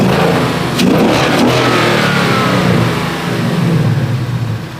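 A car engine fitted with a JLT cold air intake revs hard and loud. A throaty induction roar rises and holds for several seconds, close up, with no talking.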